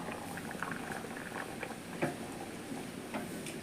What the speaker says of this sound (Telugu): ఇగో పులుసుడు కంద ఉడుకుతుంది